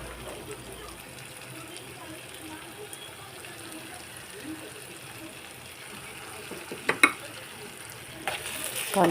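Onions cooking with turmeric and salt in a pan give a soft, low sizzle throughout, with a few sharper stirring clatters near the end.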